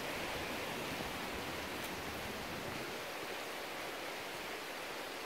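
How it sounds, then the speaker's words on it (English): River water flowing steadily through woodland, a continuous broadband rushing wash with no pauses, fairly close and unbroken by talk. "As you'll be able to hear from the water."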